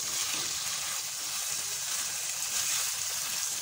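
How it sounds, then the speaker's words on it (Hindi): About half a kilo of chicken mince with onions sizzles steadily in a pan, a continuous bright frying hiss at close range with no talking. "तकरीबन ये 1/2 किलो कीमा है चिकन का, इसको मैं इतना भुनूंगा इसका कलर चेंज हो जाए।"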